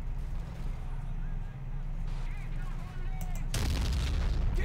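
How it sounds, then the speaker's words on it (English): Artillery fire booms in the Men of War Assault Squad strategy game, a low rumbling bed with a sharp loud blast near the end, under a player's talk. "you got Dragon's artillery, but that's fine."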